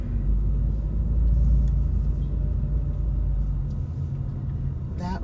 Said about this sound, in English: That wasn't me making that noise. It was a car behind